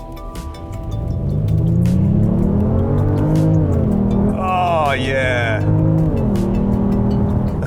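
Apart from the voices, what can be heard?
Genesis GV80 3.5 litre twin turbo accelerating hard in sport mode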